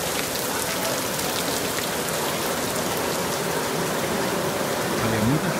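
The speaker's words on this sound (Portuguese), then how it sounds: "Olha, é muita chuva." Heavy rain pours down at the Miranda River, a dense, constant hiss of drops striking surfaces nearby, loud and unbroken throughout with no clear voices over it.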